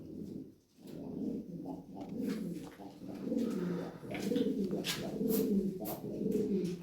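Lahori pigeons at a sale coo steadily at close range, soft overlapping throaty calls repeating in a continuous rolling rhythm throughout, with no talking.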